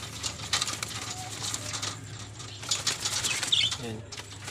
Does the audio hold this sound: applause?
no